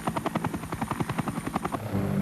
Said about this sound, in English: the new aircraft carried the designation Helicopter Utility Number 1, HU-1, soon to be called the Huey